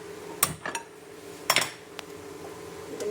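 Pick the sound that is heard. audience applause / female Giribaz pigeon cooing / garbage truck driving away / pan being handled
pan being handled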